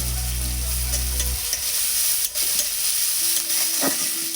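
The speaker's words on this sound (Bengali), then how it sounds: "পেঁয়াজটা রসুনটা হালকা ভেজে নিয়েছি" Chopped onion and garlic fry in a pan with a loud, continuous sizzle and occasional stirring scrapes. A low steady hum fills the opening second and then cuts out. No one speaks.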